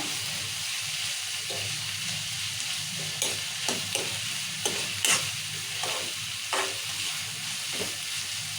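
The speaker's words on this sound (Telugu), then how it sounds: "ఇప్పుడు ఉల్లిగడ్డ వేగుతుంటుంది" Onions and chana dal sizzle steadily in a pan, with scraping stir strokes from a spoon breaking through at intervals; close and fairly loud, with no talking.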